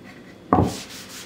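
A brief rubbing stroke of milk paint stain being worked into a wooden cutting board, one short scuffing burst that fades into a quiet background.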